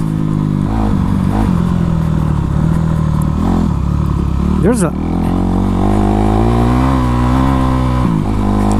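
A Honda CRF450 motorcycle is ridden around laps, its engine droning loud and close, rising and falling in pitch as the throttle opens and eases, with a brief sharp rev midway.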